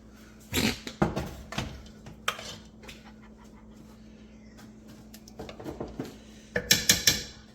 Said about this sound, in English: Grab my 13 by 9 casserole dish.